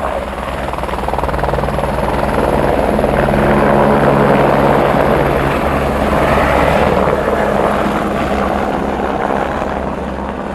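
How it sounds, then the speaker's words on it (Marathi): A nearby helicopter lifting off and flying away, its loud rotor thrum and turbine whine swelling at the midpoint and then easing off as it leaves. "बघा ते हेलिकॉप्टर गेलं."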